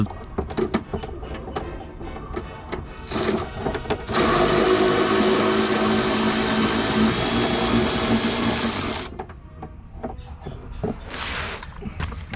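A 10mm socket on a long 1/4-inch drive wobble extension unbolts the rear bumper of a 1999-2004 Lexus RX300: scattered clicks and knocks, then a loud steady mechanical whir for about five seconds, then more clicking.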